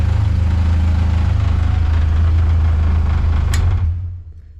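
Up close, a freshly rebuilt racecar engine runs at a steady, loud idle, then is switched off near the end, leaving the sound to fade quickly into silence.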